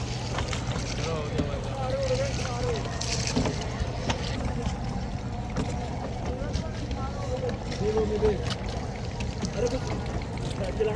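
A raft boat travels on the river at the Sangam and Yamuna during the Maha Kumbh Mela 2025, with steady broadband water and wind rush throughout and people talking over it.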